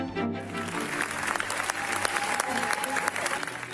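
Sustained audience applause following a film screening at a festival, steady and dense throughout, mixed with music and a voice underneath.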